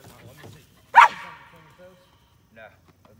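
A dog left behind while its owners go fishing lets out one loud, close bark, followed by a faint yip and low murmuring voices.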